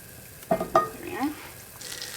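Butter hisses and sizzles steadily in a hot frying pan close up. Brief voice-like tones and a light clink of cookware rise over it.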